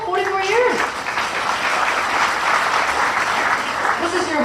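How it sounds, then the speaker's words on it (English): A comedy club audience breaks into sustained, even applause for a long-married couple, with a voice briefly heard at the start and end. "Big round of applause for that couple, 44 years."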